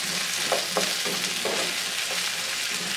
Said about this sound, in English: To the olive oil, I'm going to add in 1 tablespoon of butter.